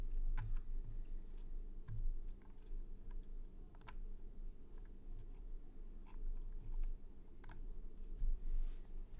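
Computer mouse clicking at a desk, quiet and close, in scattered single clicks and short irregular runs over a low background hum.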